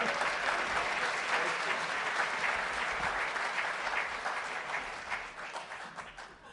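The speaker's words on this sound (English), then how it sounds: "Let's have another round of applause for our future Rotarian, Brian." An audience at a Rotary club meeting claps in sustained applause, a dense crackle of many hands that gradually fades toward the end.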